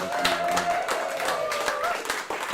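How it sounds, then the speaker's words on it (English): Audience at a live songwriter performance at an arts center applauding and clapping in a steady wash, while a voice talks over it. "One more round of applause for all three of our amazing performers."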